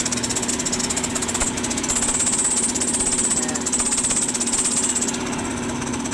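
A running motor in an automatic machine that has a fault hums with a steady, pulsing drone and a high whine, close and continuous, without speech.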